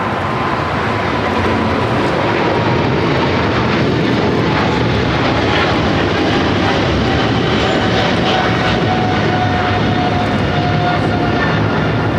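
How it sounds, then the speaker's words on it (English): A Japan Airlines Boeing 777-300ER departs LAX with a loud, sustained jet engine roar that stays close and constant throughout, with a faint whine riding on top. "Japan Airlines heading back to Tokyo Haneda 777-300ER."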